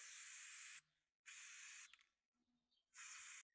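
Three long bursts of rubbery sealant spraying from an aerosol can, each hiss lasting under a second, separated by short pauses with faint handling noise in between.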